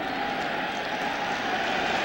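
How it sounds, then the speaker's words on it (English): Dense, steady roar of a less than capacity football stadium crowd at a 1995 Chiefs at Seahawks NFL game, continuous and fairly loud with no distinct voices standing out. "Less than capacity crowd trying to put itself in the game"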